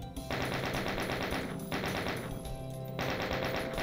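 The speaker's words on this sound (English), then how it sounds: "Is someone shooting me?" Rapid automatic gunfire inside the Doom video game, firing at the player as a continuous rattling stream of shots over about four seconds with short gaps, loud and steady against game music.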